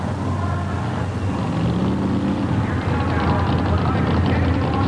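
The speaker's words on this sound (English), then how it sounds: "There we go. Monster truck race." Monster trucks King Kong 3 and Gravedigger racing at a 1988 TNT event in St Paul, Minnesota: a steady, loud engine roar rising slightly in intensity, with a crowd and voices underneath.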